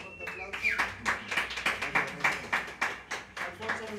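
An audience applauds a violin and saxophone duo: loose, rhythmic clapping of a modest crowd, fairly close, while a voice speaks at the start and a sustained tone rings beneath the claps.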